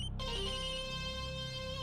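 A phone ringtone plays loudly and steadily on its own, a sustained melodic electronic tone with no talk over it, in an indoor household scene from a Hindi TV drama.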